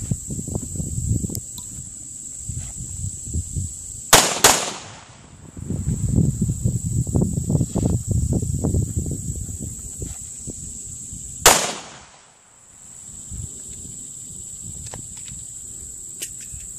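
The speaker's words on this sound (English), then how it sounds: "So I'm going to pull it out and do a couple double taps right into the belly of the gopher" An M&P9c pistol fires a quick double tap, then another sharp shot several seconds later. The shots are loud and close outdoors over a constant high insect buzz.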